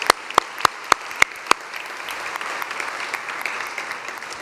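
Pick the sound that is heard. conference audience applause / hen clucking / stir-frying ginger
conference audience applause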